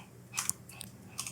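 Quiet computer keyboard typing, a few soft clusters of key clicks spread over a moment, close and faint, with no voices.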